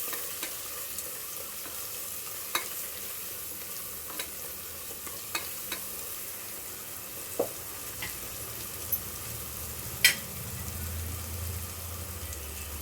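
Rice being sautéed in a pan with curry masala, biryani masala and a little rock salt for vegetable brinji, giving a steady soft sizzle with scattered clicks and stirring scrapes, close and moderately quiet with no talking.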